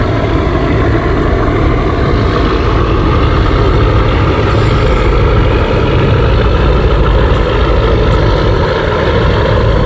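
The engine of the Tipu 13 passenger launch on a river runs as a loud, steady, low-pitched drone, heard from close by without pause for the full stretch.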